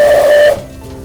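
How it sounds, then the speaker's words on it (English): Steam locomotive whistle in a cartoon, sounded by pulling a handle, one loud steady shrill tone lasting about half a second before cutting off into a soft hiss. "The whistle works when I pull this handle."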